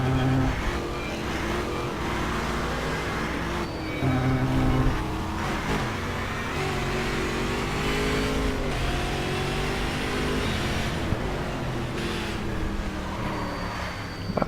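Stock cars racing at Curitiba in the video game Game Stock Car 2012, a continuous loud engine roar with shifting revs as several cars accelerate and run close together.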